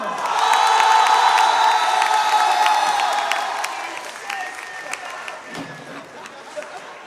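Conference audience at the Toulouse Game Show 2019 YouTuber panel applauding and cheering loudly, a dense wall of clapping with whoops and shouts that slowly thins out over several seconds.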